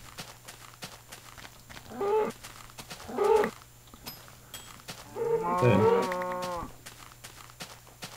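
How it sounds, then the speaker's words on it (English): Cows in a video game moo three times, the first two short and the last a longer drawn-out low call, over a quiet steady background hum. "I'm going to get a couple more cows."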